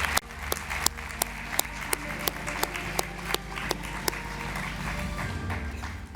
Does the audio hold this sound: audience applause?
yes